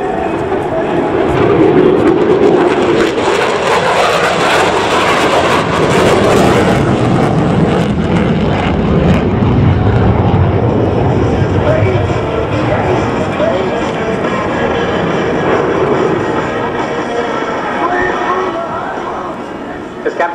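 An F-16 fighter jet makes a pass at the 2023 Matsushima Air Base air show in Japan, its loud broad roar swelling and fading as it goes by, while an announcer talks over the noise.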